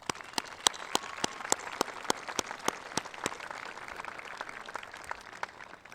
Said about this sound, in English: Students, at this time, let's please applaud our parents.